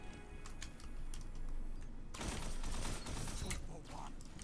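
Rapid gunfire from a weapon in an online shooter game crackles in dense bursts, swelling louder halfway through over constant game noise and background chatter.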